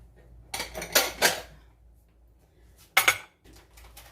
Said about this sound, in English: I'll put a little bowl on it.